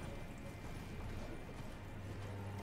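A horse galloping in the video game Elden Ring, its hoof clip-clop running steadily as a muffled rhythm under a dense, constant game soundscape, with no talk.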